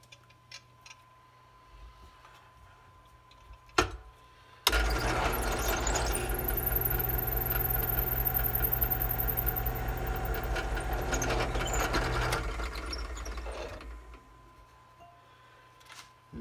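A steady, loud drill whirs into a tobacco pipe's wooden block held in a vise for several seconds after a sharp knock, then winds down and stops.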